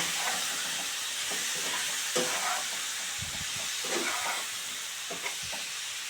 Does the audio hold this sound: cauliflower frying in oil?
yes